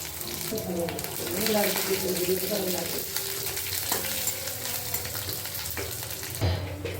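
Five-spice seeds, bay leaf and garlic frying in a little oil, a continuous sizzle with stirring scrapes and a few clinks, near and moderately loud.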